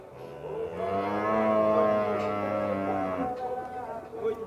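A cow gives one long, drawn-out moo lasting a few seconds, fairly close, at a cattle fair in Campina Grande, Brazil, followed by faint shuffling in the background.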